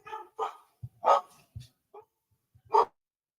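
A dog barks in a handful of sharp, separate bursts with short pauses between them, fairly close and heard alone without talk.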